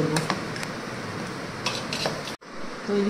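Spices are stirred in a sizzling pan while cooking, a spoon scraping and clinking against the metal over a steady fry, with a brief gap near the end before the scraping resumes.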